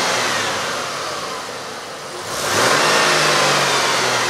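An Australian Ford Falcon wagon engine revs up from a steady idle, dipping briefly before climbing into a louder, rising roar close by.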